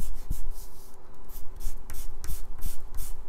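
An eraser rubs pencil off an inked comic drawing of Captain America in quick, close scrubbing strokes, a soft rhythmic scratching that repeats several times under a faint steady hum.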